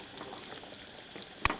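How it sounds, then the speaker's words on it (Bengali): A utensil scraping and stirring food in a pan over medium heat while a home-style restaurant dish cooks, with a soft steady sizzle and one sharp clack near the end. No voices. "এখন হালকাভাবে নেড়ে দেব।"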